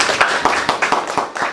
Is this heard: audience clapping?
yes